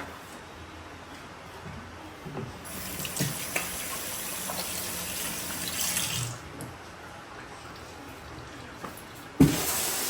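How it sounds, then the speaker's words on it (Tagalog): A kitchen tap runs steadily while hands are washed beneath it, the water splashing and shifting in loudness, with a few small knocks and a sharp clatter near the end. "Hugas lang tayong kamay."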